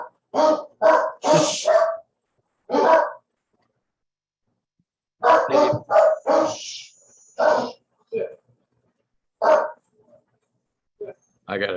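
Dogs bark in short bursts, a quick cluster at first and then scattered single and paired barks separated by pauses, fairly close and clear.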